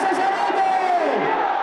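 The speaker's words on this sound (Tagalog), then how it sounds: "Binalot ng mga ingay at hiyawan ng mga deboto ang buong Quiapo Church habang sinasalubong ang pagdating ng imahe ni Jesucristo na may pasan na krus" A large crowd of devotees at Quiapo Church roars with cheers and shouts as the image of the Black Nazarene arrives at night, a loud continuous mass of voices with rising whoops close by.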